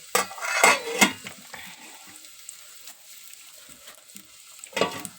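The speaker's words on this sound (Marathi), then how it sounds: "अशा प्रकारे लसण तळून घ्यायचा" Garlic frying in oil with a low, steady sizzle, broken by a few sharp clattering stirs of a utensil against the pan near the start and again at the end, close by and without talking.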